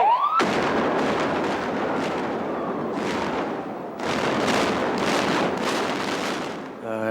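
A test explosive detonation hits with a sudden huge blast, then a long, loud, rumbling roar that swells again midway before cutting off, all heard from a distance outdoors.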